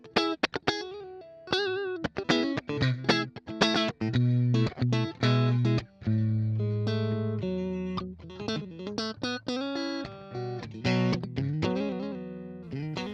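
Electric guitar through the clean channel of a Vox MV50 amplifier plays a lively sequence of notes and chords, some held and ringing, others short and choppy, with no talking.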